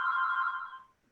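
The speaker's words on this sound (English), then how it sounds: "sorry about that phone, you guys" A telephone rings once in a steady electronic trill, fairly close and alone, then fades away during an online video meeting.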